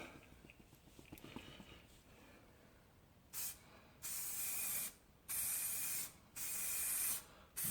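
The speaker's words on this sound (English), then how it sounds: "now we're just going to put on this first coat of lacquer" Lacquer is sprayed onto a repaired sill of a Jaguar XK8 painted sapphire blue metallic. A spray gun gives four hissing bursts of a few seconds each, separated by short gaps, after quiet handling noises.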